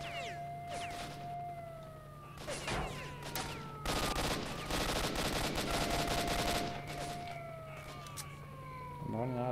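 Gunfire in the video game S.T.A.L.K.E.R.: Shadow of Chernobyl, with scattered shots and then a dense, sustained automatic burst over droning tonal game ambience.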